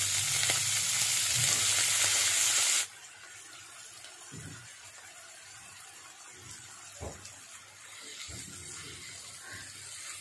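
Ridge gourd frying in a pan gives a loud, bright sizzle for about three seconds. It then cuts to a much quieter low hiss, broken by a few soft knocks and stirring sounds.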